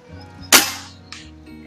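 A single sharp shot from a Hatsan Model 135 .30 caliber break-barrel air rifle firing a 48.6 grain pellet, a loud crack followed by a fainter impact moments later.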